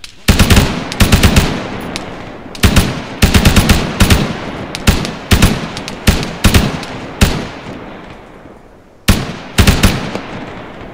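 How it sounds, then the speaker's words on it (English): Canadian army soldiers firing machine guns in bursts, loud close rapid reports with sharp echoing tails repeating irregularly throughout, brief pauses between volleys. "Open fire. Open fire."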